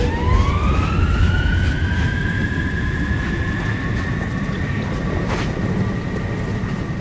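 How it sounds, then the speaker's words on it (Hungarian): A ship horn in the Outer Worlds 2 video game sounds a long, loud sustained tone that swells and rises in pitch at the start, then holds steady over a constant low rumble, with no talking. "Hajó hangot hallok, de nem látom."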